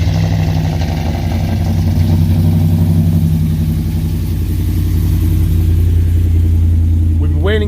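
Whipple-supercharged Ram truck engine, unstarted for about a week, runs at a steady loud idle with a deep, constant low rumble throughout, no starting crank evident.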